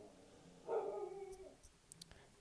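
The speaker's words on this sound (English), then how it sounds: "Sorry for my dogs." Dogs barking indoors, a short low whimpering woof followed by a few faint, distant yips, quiet and brief.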